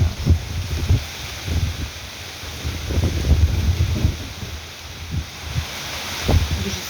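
Strong wind buffets the microphone in a continuous low rumble with irregular gusty thumps, loud and close throughout.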